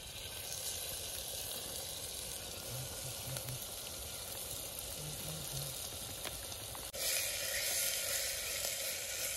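Tomatoes sizzle steadily in a pan with fried onions for toddy chicken, a continuous close hiss that swells louder near the end, with a few faint low knocks underneath.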